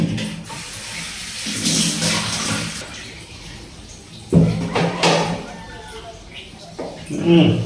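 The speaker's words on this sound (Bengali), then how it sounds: "লাউটা ধুয়ে নিই।" A young bottle gourd rinsed under running water in a village kitchen, with close splashing and gushing in uneven bursts while a person talks over it.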